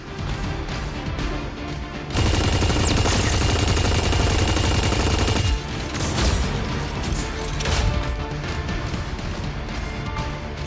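Rapid gunfire from the mecha shooter game Super Mecha Champions, a dense sustained burst in the middle over continuous game sound and music, with lighter shots around it.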